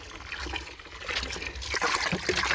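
Potassium sulfate fertilizer solution for feeding grapevines is poured out in a steady liquid trickle and splash, close by and moderately loud, growing fuller toward the end.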